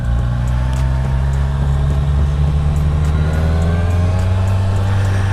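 A Kawasaki Ninja motorcycle engine runs while being ridden, giving a steady, loud, close drone with a strong low hum and layered harmonics that hold nearly constant throughout, with no talking.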